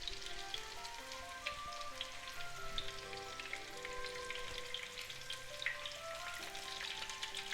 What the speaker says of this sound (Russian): Котлетки нам нужно только обжарить с 2 сторон